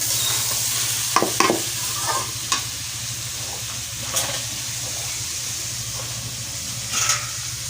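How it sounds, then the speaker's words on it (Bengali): Rice and lentils fry in a pan for khichuri with a low sizzle, while a spoon scrapes and stirs in scattered strokes. Close and fairly quiet, with no talking. "চালটা আমার অর্ধেকের বেশি ভাজা হয়ে গেছিলো, ভাজা হয়ে গেছিলো, ডালটা দিলাম।"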